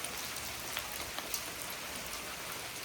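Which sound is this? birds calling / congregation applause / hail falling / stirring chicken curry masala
hail falling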